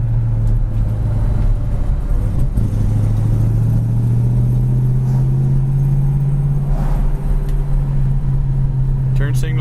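A 1966 Ford Mustang's engine idles steadily at close range, a low, even rumble with a faint hum that holds throughout while a person talks over it.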